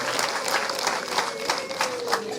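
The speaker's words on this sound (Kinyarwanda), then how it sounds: "Amashyi menshi." A crowd at a women's celebration event claps in a lively, sustained burst, many hands close by with a few sharper claps standing out, and no talking over it.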